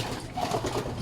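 Pigeons cooing in a loft, soft low murmuring coos over a brief moment, close and unaccompanied by talk.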